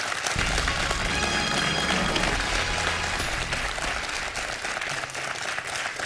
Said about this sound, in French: je vois les candidats qui s'applaudissent entre eux.